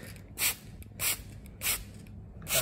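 Four short bursts from a pump spray bottle of soapy water, evenly spaced about half a second apart, crisp and close against a low background rumble.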